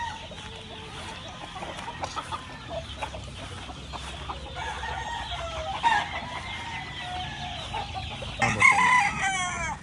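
Rooster crowing with clucking from nearby fowl, several crows rising over steady farmyard background, the loudest near the end, with no talking.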